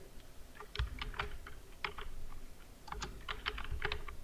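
Typing on a computer keyboard, with a series of quiet, close clicking keystrokes arriving in short bursts with brief pauses between them, no talk.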